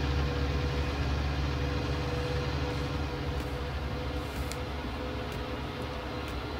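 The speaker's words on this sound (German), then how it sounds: "Traktor fährt sich gut." Tractor engine in the farming game Landwirtschafts-Simulator 19, a steady low droning hum while driving, continuous and even at moderate level with no speech.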